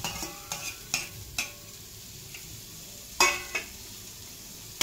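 Onions fry in a pan for egg curry, a soft sizzle broken by several sharp scrapes and clinks of stirring, close by with no talk.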